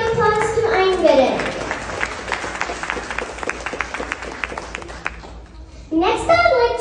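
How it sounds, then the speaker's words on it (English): Audience clapping at a karaoke night, a sustained burst of applause lasting several seconds and then fading, with voices talking over it before and after. "Let's give one more big applause to Aingaran."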